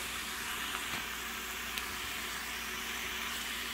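Small-cut chayote pieces cooking in a pan give a steady, even sizzle throughout, moderately loud and uninterrupted, with no talking.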